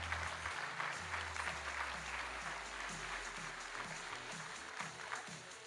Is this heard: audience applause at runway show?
yes